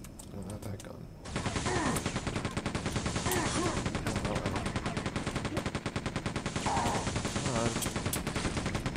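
Rapid, continuous automatic gunfire with booming blasts from the video game Quake 2, loud and relentless after a brief quieter opening, with a voice talking faintly underneath.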